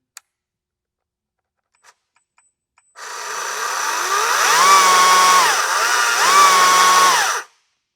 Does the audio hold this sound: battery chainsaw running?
yes